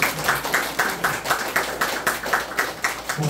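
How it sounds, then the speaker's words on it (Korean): Applause at a 30th anniversary celebration greets guests joining remotely, heard as a steady run of rhythmic clapping, fairly close and even, lasting a few seconds. "박수로 환영을 드리겠습니다"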